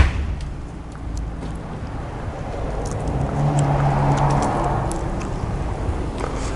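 Quantum Edge 3 power wheelchair with tilt and recline driving at full speed outdoors, a steady motor whine and rolling rumble that swells slightly midway, with scattered light clicks and rattles and no talk.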